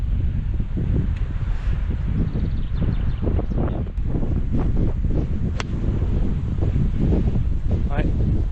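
Strong wind sweeps across a golf course during a match, buffeting the microphone with a continuous low roar and gusty rumble, with faint voices now and then underneath.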